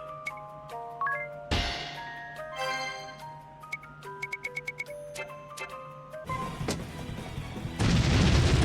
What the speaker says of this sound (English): Gunners, steady on! Keep firing! Fire till you've nothing left!